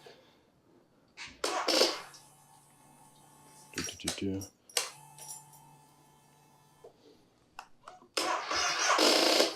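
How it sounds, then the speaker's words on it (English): Honda Rebel 500 motorcycle engine being started, with bursts of starter cranking that come and go several times, separated by quieter gaps, heard up close. A voice speaks at points. "Honda is known for their reliability, so this should start right up."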